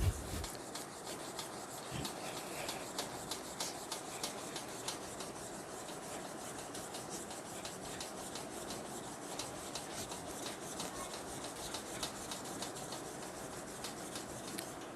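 A piece of vidhara herb is rubbed back and forth against a stone to draw out its extract, a steady close rasping scrape repeating in quick even strokes.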